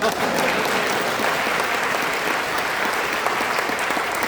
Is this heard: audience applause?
yes